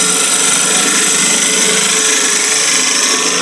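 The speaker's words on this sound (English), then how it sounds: "So I'm just taking off the bulk of the timber." A wood lathe spins timber while a small gouge takes off the bulk of the material, a loud continuous scraping, hissing cut with a steady motor drone, close and without talk.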